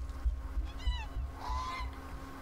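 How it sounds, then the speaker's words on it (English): A goose or swan in the video game The Unfinished Swan gives a couple of rising honks, moderately loud over low background rumble. "There's the goose somewhere."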